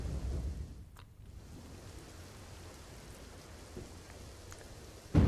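Heavy rain pours at Nadabet in Banaskantha, Gujarat, near the India-Pakistan border, a steady, faint wash of downpour noise with a brief dip and a sharper burst at the end.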